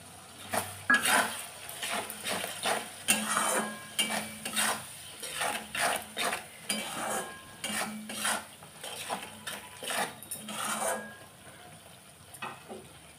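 Spices with red chilli powder frying in a pan for a duck egg curry, stirred with a metal spoon that clinks and scrapes in uneven bursts over a light sizzle, close and clear, no talking.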